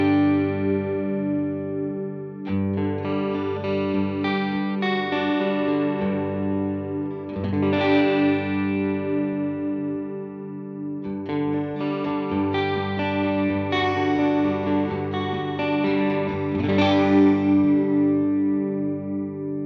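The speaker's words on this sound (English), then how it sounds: "That's starting to have a more traditional sound of what a chorus effect does." Guitar through a chorus effect on a Line 6 Helix, its rate swept by an expression pedal: strummed chords and picked notes shimmer and warble as the modulation speed shifts, loud and alone.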